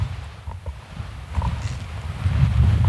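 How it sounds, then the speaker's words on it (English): Strong wind buffets the microphone in a steady low roar at a mountain campsite, building louder toward the end, with a few faint knocks underneath. "It's super windy up here."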